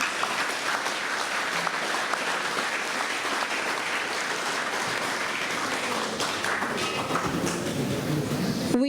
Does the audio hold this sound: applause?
yes